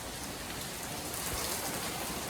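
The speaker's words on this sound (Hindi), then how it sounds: "ये देखिए बहुत तेज़ बारिश है" Heavy rain falls steadily outside near a shed, a dense, even hiss of drops hitting surfaces, fairly close and continuous with no voices.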